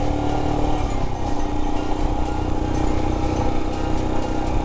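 Royal Enfield Himalayan motorcycle riding toward Pangong Lake, a steady loud engine drone with continuous wind and road rumble, close and uninterrupted throughout.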